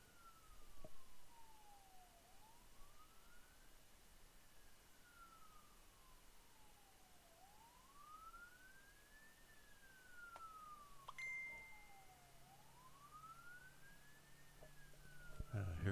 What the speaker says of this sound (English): Hear sirens going up the road.